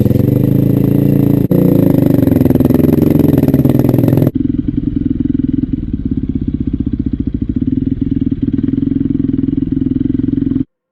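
A motorcycle with a freshly rebuilt engine, new linkage and swing arm bearings, is ridden loud and close through first and second gear, its engine droning steadily with a gear change partway through.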